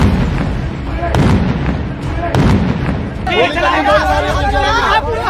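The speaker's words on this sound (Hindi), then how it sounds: "भाई पे गोली चला दी है" Gunfire at a crowded street protest gives two sharp, loud bang-like bursts early on. Agitated shouting and crowd noise run throughout and grow louder toward the end.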